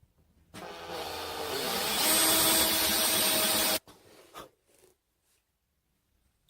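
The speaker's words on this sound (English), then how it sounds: "All right, bigger drill." A power drill bores into metal (aluminium, copper or brass) with a larger bit, giving a loud whirring grind that swells for about three seconds and then cuts off abruptly, followed by a few short bursts and then quiet.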